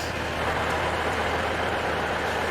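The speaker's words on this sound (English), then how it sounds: "Definitely assume it's got some sort of giant diesel engine in it." The giant diesel engine of a heavy transport vehicle hauling a 475-tonne transformer rumbles steadily and loudly at close range, a continuous broadband drone with no talk.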